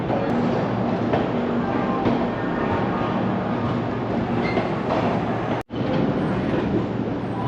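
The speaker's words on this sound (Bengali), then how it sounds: "ট্রেন একেবারে 1টার সময় হাওড়া স্টেশন থেকে ছাড়লো।" A passenger train from Howrah to Haridwar rolls steadily along with a continuous loud rumble and rattle of carriages, with faint rhythmic clatter and a brief dropout near the end.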